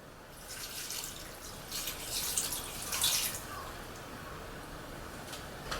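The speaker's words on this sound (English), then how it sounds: "And we add 300 milliliters of red wine." Red wine poured into a pot of chicken for coq au vin: a steady, soft liquid rush that swells and fades over several seconds, quiet and close, with no talking.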